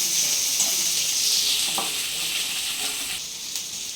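Onions sauté lightly in a pan on the stove with a steady, close hiss of frying and occasional soft stirring knocks, and no voices.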